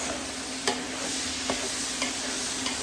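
Vegetables for a traditional ratatouille sizzle steadily in a pan on medium heat, a close, continuous hiss with a few brief clicks of a utensil against the pan and no voices.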